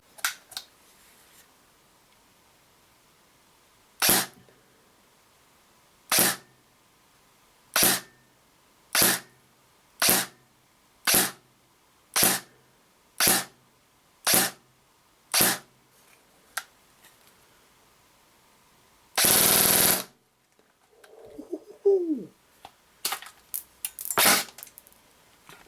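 A Classic Army PX9 airsoft pistol fires a steady series of about ten sharp single shots through a chronograph, evenly spaced and close, followed by a loud burst of noise and some rustling handling.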